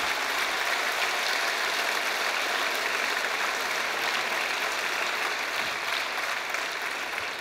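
A crowd at a political rally in Strasbourg applauds, a dense, even wash of clapping from many hands, loud and sustained throughout with no speech over it.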